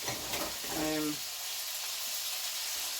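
Onions hit a hot pan with pork for a honey soy dish, giving a steady close sizzle and crackle that carries on throughout, with a brief voice-like tone early on.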